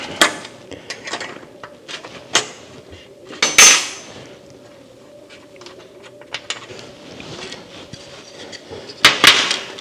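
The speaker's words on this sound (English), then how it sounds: "So it doesn't take very much effort to knock them out. Just a couple of taps with the hammer." Metal hammer taps knock valves out of a vacuum pump on a Scout 800 under restoration, giving a few sharp, separate clinks with quiet handling and clatter of parts between them.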